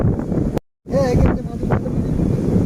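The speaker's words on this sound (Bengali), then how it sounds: "এখানে দারুণ হাওয়া চলছে।" Strong wind by the Ganges river at Diamond Harbour buffets the microphone in a loud, rumbling roar, cut by a brief dropout, with a voice faintly heard beneath it.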